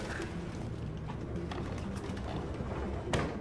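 Pigeons in the video game Detroit: Become Human coo softly amid a steady ambient game background, with a brief louder flutter near the end.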